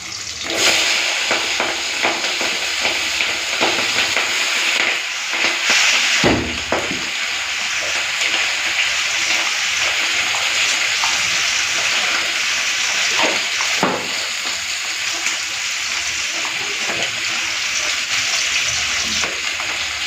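Potatoes and onions fry in a pan with a steady, loud sizzle that carries on without a break, with occasional scraping and stirring sounds.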